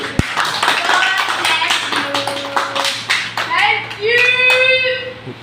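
Hands clapping at a child's birthday celebration, a brisk burst of group applause in a room, followed by people talking and singing over the fading claps.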